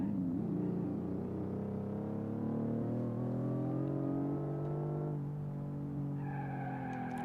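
A car in a racing video game goes into power oversteer, and its tires skid and squeal in long, sliding tones over a droning engine that shifts pitch near the end.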